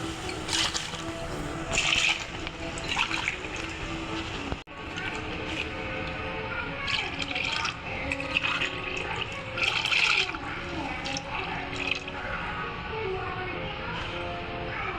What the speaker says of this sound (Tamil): நெக்ஸ்ட் நம்ம தேவையான அளவு தண்ணி ஊற்றிக்கலாம்.